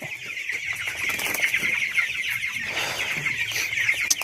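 Broiler chickens, meat birds raised on a poultry farm, cluck and call continuously in a dense, near chorus, with occasional rustling and wing flaps beneath the steady flock noise.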